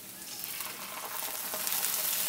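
Onion and ginger paste frying in oil for a Bengali tilapia dopiaza, a steady close sizzle that builds slightly over two seconds with no talking.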